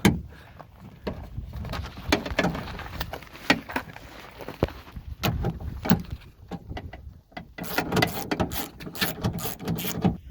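Small socket ratchet removing 10 mm bolts from the door of a 2005–2007 Kia Spectra during an outside door handle replacement: rapid clicking ratchet strokes and metallic taps, close and steady, with no talking.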